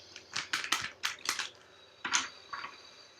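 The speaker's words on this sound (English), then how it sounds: "One more shuffle here, Pisces." Tarot cards are shuffled for a horoscope reading in a series of crisp riffling bursts, about six quick close rustles with short pauses between them, alone without talk.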